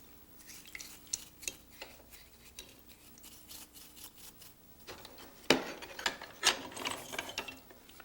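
Small ratcheting clicks and metal-on-metal turning as the adjustment wheel of a hand plane is spun off its stud, quiet and close, growing busier and scrapier toward the end.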